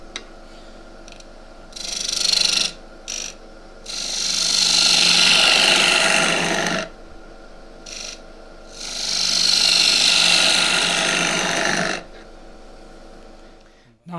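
Wood lathe truing the end grain of a tall spruce goblet, two long bursts of loud hissing, scraping cuts separated by a quiet hum, plus a few short cuts before them.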